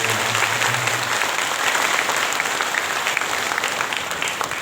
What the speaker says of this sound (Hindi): एक बार पुनः सभी एक दूसरे के उत्साहवर्धन में तालियां